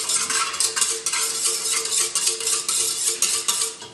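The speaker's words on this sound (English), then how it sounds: "I'll stir in the sugar that I already put in here" A spoon stirs sugar into warm milk in a bowl for homemade pizza dough, making a steady run of close, repeated scraping and swishing strokes with no voices.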